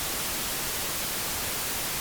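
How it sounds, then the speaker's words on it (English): Flat, unequalized white noise: a steady, even hiss across the whole range, loud and unchanging, with no other sound. "So without the EQ, the white noise is completely flat."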